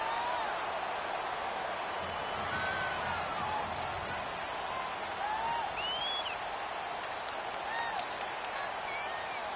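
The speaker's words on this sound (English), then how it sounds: "The crowd getting into it as we come up on a big 3rd down." A stadium crowd roars steadily in an American football video game ahead of a big third down, with continuous cheering, applause and scattered whoops filling the whole stretch.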